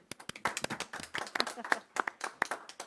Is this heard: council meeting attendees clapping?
yes